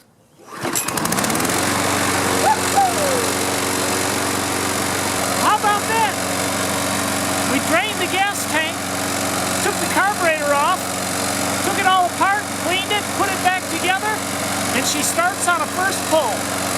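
A walk-behind lawn mower with a freshly cleaned carburetor catches at the first pull and runs at a steady, close, droning idle. Squeaky chirps recur over the engine, and there is no clear talking.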